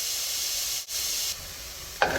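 Chopped onion sizzles in a tablespoon of olive oil for chicken barley soup, a steady broadband hiss that drops briefly, then quietens. A sharper clatter or stir sounds near the end.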